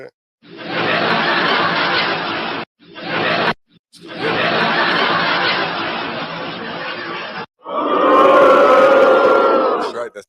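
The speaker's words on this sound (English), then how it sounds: "That's that crowd." A large arena crowd at a Denver Nuggets versus Miami Heat game roars and murmurs in long broad waves, broken by brief gaps, with a louder swelling cheer at the end.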